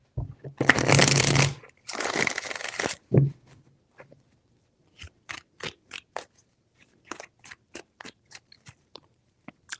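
Tarot cards being shuffled close by: two long riffling bursts, then a series of short crisp taps and snaps as the deck is handled.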